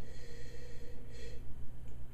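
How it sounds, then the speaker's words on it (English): Someone sniffing a glass of Petite Syrah red wine up close, several soft rhythmic nasal inhalations in quick succession, gentle and breathy. "Let's give it a sniff."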